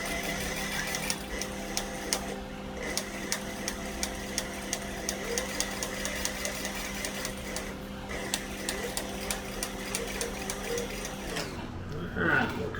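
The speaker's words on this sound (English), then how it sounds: "we'll sew around the inside circle first, and then we'll come back and sew around the outside circle" A sewing machine stitches leather around a zipper circle, a quick, even run of mechanical clatter with regular ticks that stops near the end, with someone talking over it.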